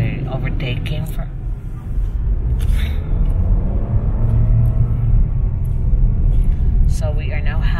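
A jeepney rolls past in Cebu City traffic, its steady low engine rumble and road noise filling the scene close by, with someone talking over it throughout.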